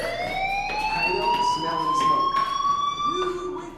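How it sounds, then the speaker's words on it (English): A wailing fire alarm sounds in the video game Life is Strange, its rising, steady siren tone running loud and continuous with layered harmonics, while a voice talks over it. "Hey, do you hear that fire alarm?"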